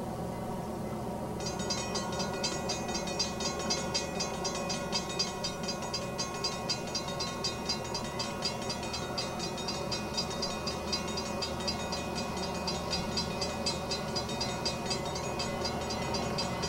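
Steam locomotive SP 4449 Daylight rumbles steadily past with its train in 1981, a continuous rolling roar and metallic clatter, fairly loud, with a bright rattling layer throughout.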